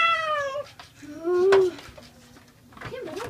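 Feral cat meowing during a Louisiana flood rescue by boat, several loud plaintive meows close by, one rising into a strained cry.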